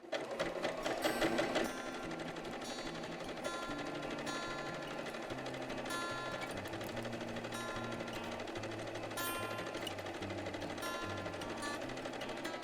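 A sewing machine runs steadily at stitch length 2.5 along the edge of fabric for a headband, a rapid close mechanical chatter that starts, briefly pauses, then continues evenly, with no talking.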